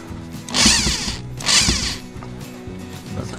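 An Intertool DT 0103 cordless screwdriver drives a screw at third speed in two short whirring bursts with a gritty grinding edge, followed by quieter faint clicks.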